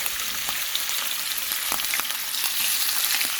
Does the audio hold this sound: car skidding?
no